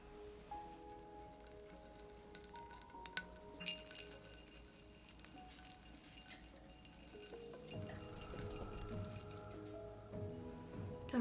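Dried herbs being added to a glass jar, with scattered light clinks and taps of glass rising into a few sharper knocks, then softer rustling and a faint low hum toward the end.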